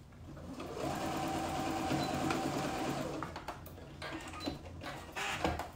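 A sewing machine runs steadily for about three seconds while back stitching on elastic shorts, then gives a few short, sharper mechanical clicks and bursts near the end. No one speaks.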